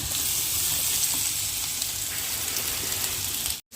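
Cut potato pieces sizzle steadily in hot oil in a pan, a dense, even frying hiss filling the whole stretch before cutting off abruptly at the end.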